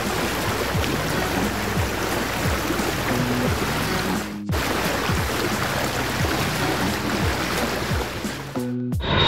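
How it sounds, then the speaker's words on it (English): A boat moves on open water with a steady, loud wash of water and waves that runs continuously, broken by a brief cut partway through. "Boat."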